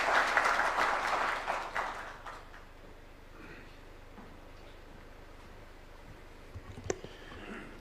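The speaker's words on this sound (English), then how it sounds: "Let's welcome him with a warm clap." Audience at an official ceremony with Kenya's President claps warmly, a fairly strong burst of applause at the start that fades within about two seconds into quiet room murmur with a few scattered knocks.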